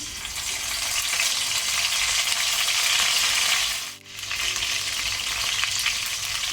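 Curry leaves fry in ghee over a low flame for a Mangalore-style country chicken urval, giving a steady, loud, close sizzle that dips briefly to near quiet about two-thirds through, then resumes.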